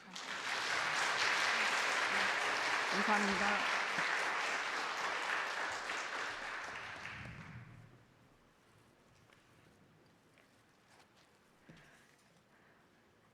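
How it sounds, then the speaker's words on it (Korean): Enthusiastic audience applause at a church women's association general assembly service, a dense sustained clapping crowd for about seven seconds that fades to quiet room tone, with a brief spoken thanks. "뜨거운 박수 한번 부탁드리겠습니다"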